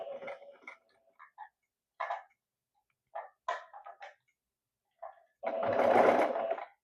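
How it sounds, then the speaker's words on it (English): A sewing machine back stitching through fabric, several short bursts of rapid mechanical needle clatter separated by pauses, ending in a longer, louder run, close and alone. "I'm gonna stitch from this end. And I'm gonna grab here. I'm going to back stitch."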